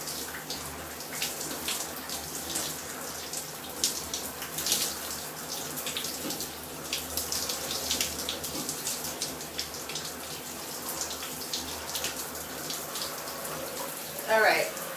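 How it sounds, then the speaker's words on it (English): Running tap water streams steadily as hair is rinsed during a wash-and-go routine, a continuous close splashing hiss with small fluctuations and a brief louder burst near the end. "so I'm rinsing it out now."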